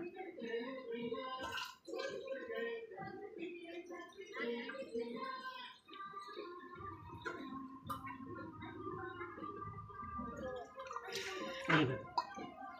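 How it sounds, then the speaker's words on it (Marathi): Water pours and gurgles into a cooking pot in short, close bursts. A voice talks over it throughout. "थोडंसं पाणी ओतायचं"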